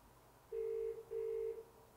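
Two steady telephone dialing tones sound back to back, each about half a second long and separated by a short gap, clear and moderately loud over a faint background hiss with no voices.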